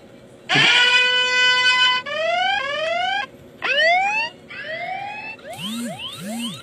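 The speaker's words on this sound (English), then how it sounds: "Alarm tone." A portable anti-theft alarm runs through its siren tones: a wailing sweep, rapid warbles, chirping rises and falling whoops, each loud and piercing, with no talk.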